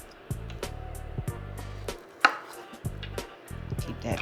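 Mushrooms being chopped with a knife on a cutting board, heard as clusters of rapid, close, crisp knife strokes in several bursts with brief pauses between them and one sharper knock in the middle.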